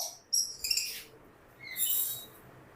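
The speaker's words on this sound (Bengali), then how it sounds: "এখানে আরো এক জোড়া সুন্দর পাখি দেখতে পারতেছি লাম্বার্ড" Lovebirds chirp in a breeding aviary, giving a few faint, thin high calls in short bursts against a quiet room.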